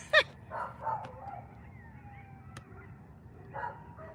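Dogs bark in a garden at night, with a sharp close bark followed by a few fainter, more distant barks and yips over a steady low background hum.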